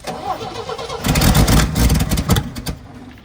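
An old Scout engine cranks and then catches, bursting into a loud rough run for a couple of seconds before a few sputtering pulses die away.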